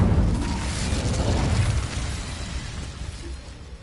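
A fiery Incendio spell bursts out in Hogwarts Legacy, a loud whooshing blast that fades into a lingering rumble over several seconds.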